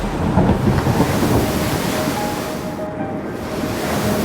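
Stormy sea surf crashing in a continuous, loud roar of breaking waves, steady and dense throughout with wind-like wash and no voices.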